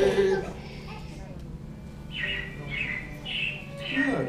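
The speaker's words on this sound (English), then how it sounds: "it looks like the Robins are getting ready to celebrate Valentine's Day today" Animatronic robins chirp in the Carousel of Progress show at Magic Kingdom, a string of four bright, repeated tweets in steady rhythm over a soft background of stage music and murmur.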